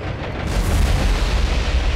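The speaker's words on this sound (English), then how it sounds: "That was a hell of an explosion" A deep, booming explosion from the naval combat video game War on the Sea, fired at a heavy cruiser, makes a loud rolling rumble that swells and holds steady for about two seconds with no talk.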